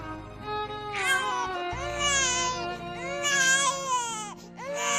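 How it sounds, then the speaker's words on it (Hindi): A baby cries loudly and close in a dense forest, a story sound effect made of several rising, wailing sobs with brief breaths between them. "इस घने जंगल में किसका बच्चा रो रहा है?"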